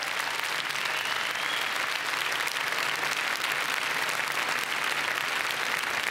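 Dense, loud applause from the audience at the Cannes festival, honouring the jury, sustained and even throughout with no talking.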